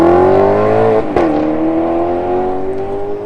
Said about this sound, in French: En parlant de V8 Ferrari.